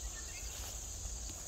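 Cicadas in autumn at a flower farm sing in a steady, continuous high-pitched buzz, fairly faint and even throughout, with no speech over it.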